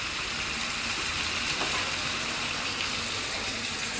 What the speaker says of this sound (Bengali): এখন আমি মাছের মধ্যে ঝোল দিয়ে দিই।